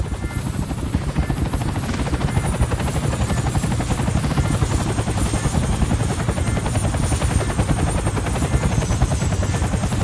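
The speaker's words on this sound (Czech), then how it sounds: "Tenhle vrtulník" A Roblox helicopter's rotor thumps in a fast, even, loud chop that runs without pause, close up and alone with no speech.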